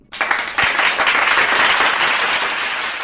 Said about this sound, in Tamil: எல்லாரும் கைத்தட்டுங்க.